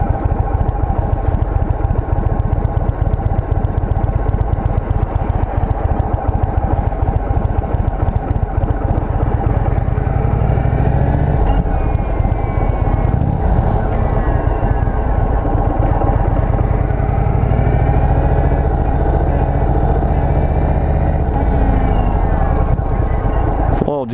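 A 2023 Indian Sport Chief motorcycle engine rumbling continuously while riding, heavy low-end throb with shifting revs and wind noise throughout.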